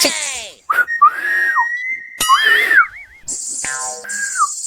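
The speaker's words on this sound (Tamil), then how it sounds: "விசில் வேற வர மாட்டேங்குது." A person attempts whistling in several short bursts, with wavering, sliding tones and a warbling trill, some breathy and uneven, loud and close.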